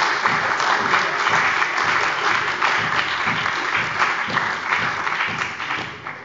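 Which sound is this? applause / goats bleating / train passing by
applause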